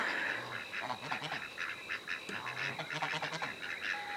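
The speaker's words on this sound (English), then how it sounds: "And then just very cute little ducks." Several ducks quack and honk in a lively, overlapping chorus, fairly close, with short repeated calls throughout.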